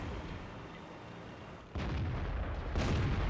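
World of Tanks tank cannon fire, two heavy booming shots about a second apart, the second sharper, over a low battlefield rumble.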